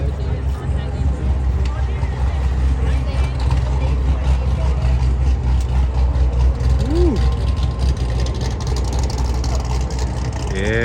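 A car fitted with a Nick Williams throttle body idles steadily at a busy car meet, a low continuous engine drone with crowd chatter and voices talking over it throughout.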